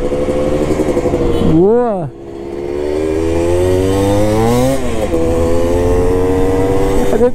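Yamaha DT200 two-stroke motorcycle engine revs sharply up and back down, then holds a steady buzzing idle that slowly climbs in pitch; loud and close, with a man's brief exclamation over it.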